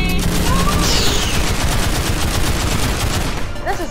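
Gunfire in the Roblox VR shooter Opposer: a loud, unbroken stream of rapid automatic shots lasting several seconds, dense and close, with faint game effects mixed in.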